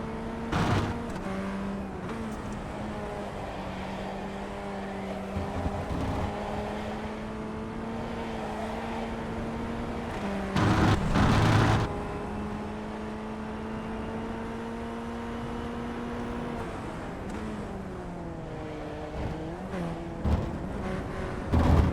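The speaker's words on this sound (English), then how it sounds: "Really hear those tires squealing with Michael's car." Formula Ford FF1600 race car lapping Lime Rock Park in iRacing, a steady droning engine note with shifting pitch and tire squeal through the corners, plus brief louder bursts as the car passes, with no talking.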